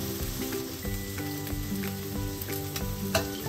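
Mushrooms fry in olive oil in a white pan, giving a steady close sizzle with faint stirring clatter over background music. No one speaks.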